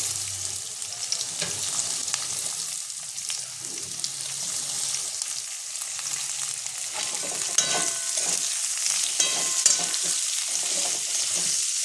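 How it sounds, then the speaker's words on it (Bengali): Onions sizzle and crackle in hot oil, a steady, close frying hiss with occasional stirring and scraping, no voices. "পেঁয়াজটা আমি লাল করে ভাজবো"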